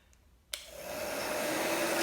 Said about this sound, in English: the next step is to get your heat gun,